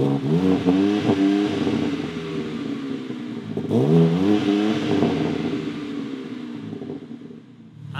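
BMW M4 G82 exhaust running with two valves open, rising in repeated sharp revs that settle into a steady rumbling idle, loud and close with no talking.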